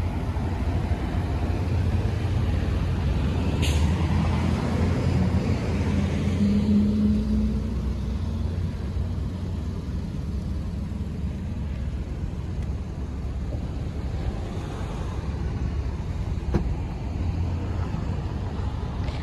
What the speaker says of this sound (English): if you hit the lock button twice and then hold down the remote start button, it will remote start the vehicle for you.